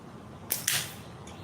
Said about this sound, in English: I like to shoot 8mm steel.